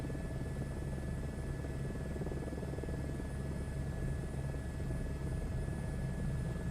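Helicopter in Microsoft Flight Simulator 2024 flying the Grand Canyon 'Green 1' tour route, a steady loud rotor and engine drone with constant buzzing hum throughout, no pauses.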